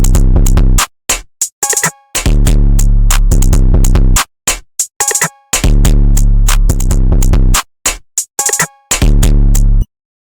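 A heavy, distorted 808 bass with a bitcrusher effect pulses in short bursts with crunchy, gritty edges, playing a stuttering pattern with brief silent gaps between hits.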